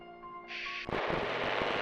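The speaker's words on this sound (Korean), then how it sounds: "잡음과 총성이 터지는 소리와 함께" Crackling radio static hisses over a military field radio during the Korean War, then bursts of gunfire break through as dense, rapid cracks that fill the rest of the moment.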